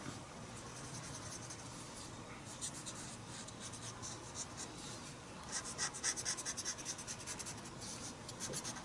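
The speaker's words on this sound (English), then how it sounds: "I'm just using the pencil that I've put down to smudge, to get me the shadows" Pencil rubbing and smudging shading on paper during a face drawing, a soft scratchy rasping in short repeated strokes, faint and close, growing busier toward the end.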